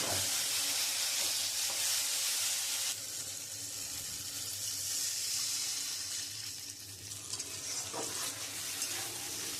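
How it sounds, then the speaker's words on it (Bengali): Water is poured into a hot pan of puti fish curry cooked with tomato and onion, bringing a loud sizzling hiss that drops at one point and then settles into a softer bubbling fry. "এবার আমি পরিমাণ মতন জল দিয়ে দেবো"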